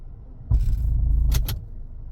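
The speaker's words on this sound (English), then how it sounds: "it's definitely a broken motor mount" A Ford Escape engine with a broken motor mount idles with a low, steady rumble, jolted by one heavy clunk before two sharp metallic knocks ring out close by.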